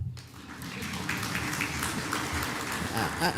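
An audience at a business forum in Kenya claps together, a dense patter of hands across the room, fairly faint and steady throughout.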